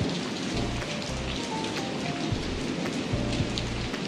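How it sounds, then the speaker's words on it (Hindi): Heavy rain pouring down in bright sunshine in Jammu, a dense, steady hiss of drops on surfaces that stays loud and even throughout, with no voices. "पूरी धूप निकली हुई है और बारिश भी ज़ोरदार पड़ रही है"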